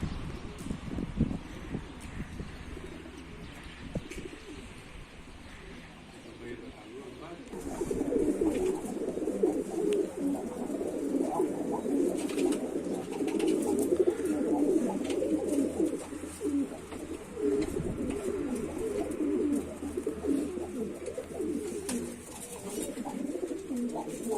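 Pigeons, kept as game birds, coo inside a coop in Mardin, a dense chorus of low, continuous calls that swells loudly after a quieter opening with faint rustling.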